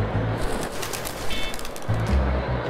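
Low, soft cooing of a pigeon, repeated a couple of times close by over a hissy outdoor background.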